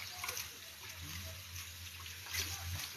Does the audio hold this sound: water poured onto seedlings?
yes